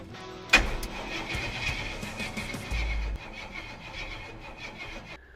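A 1976 Jeep J10 truck engine, freshly fitted with a new starter after sitting for decades, cranks over with a sudden loud burst and a steady churning rumble. A second heavier surge comes near the end, and no one speaks.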